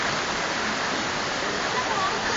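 A loud, steady roar of rushing water pours close by without pause, like a waterfall crashing down, on the Flume water ride at Alton Towers.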